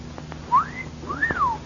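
A person whistling in a radio drama, two quick pitch-swooping whistles, the second a rising-then-falling wolf-whistle shape, close and clear.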